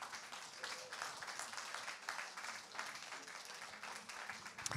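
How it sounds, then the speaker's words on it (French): An audience at a business leaders' conference in Avignon claps steadily for several seconds, a dense even patter of many hands heard from a distance at low volume. "Merci de l'applaudir"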